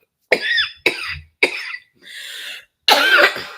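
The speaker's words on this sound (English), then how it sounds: "I pause this so I could cough" Four sharp, close coughs, each short and forceful with brief gaps between, followed by a softer breathy sound before the final cough.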